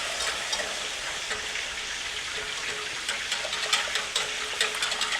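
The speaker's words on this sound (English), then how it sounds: "Just whisk this together nicely." Cream whisked into a roux in a pan on a low flame, a dense bubbling sizzle with quick scraping whisk strokes throughout, close and steady.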